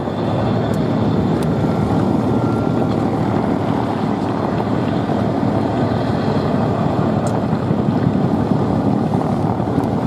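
RAF Chinook helicopter flying a display at the Duxford air festival in 2018, a loud, continuous, broad rotor and engine roar with wind buffeting, steady throughout with no speech.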